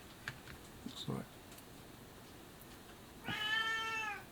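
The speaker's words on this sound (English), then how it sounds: "there's the cat turned up. It's Molly." A cat named Molly lets out one clear, drawn-out meow near the end, fairly close and quiet, after a few soft clicks and faint background noise.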